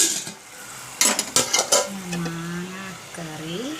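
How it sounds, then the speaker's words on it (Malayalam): A metal spoon clatters and scrapes against a pot of mango curry tempered with fenugreek, several quick knocks in a row, followed by someone speaking over soft background simmering. "മാങ്ങാക്കറി നമുക്ക് തിളച്ചുകൊണ്ടിരിക്കുകയാണ്"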